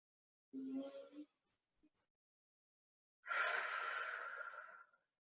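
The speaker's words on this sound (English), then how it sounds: "Hold for just a moment and then fully exhale." A deep diaphragmatic breath during a yoga session: a brief voiced sigh, a pause, then a long, full exhale through the mouth lasting nearly two seconds, close and soft with no talk.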